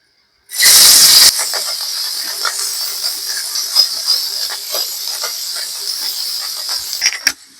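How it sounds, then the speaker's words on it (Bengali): Small morola fish drop into hot oil with a sudden loud burst of hissing and spitting, then settle into a continuous close frying sizzle with small pops and crackles for several seconds, ending with a few clinks. "তেল গরম হয়ে আসছে এখন আমি মোরলা মাছগুলো ভাজি করে নেবো"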